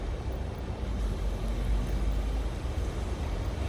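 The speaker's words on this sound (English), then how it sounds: "I hear the bus right now. It's gonna pass." A bus rolling past on a busy street in Machida, Tokyo, heard from a garden behind a wall as a low, broad engine and tyre rumble that swells gently and stays steady, with no voices.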